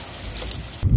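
Heavy rain pours down in a steady wash, with a rougher, louder gust of rainfall near the end, no voices.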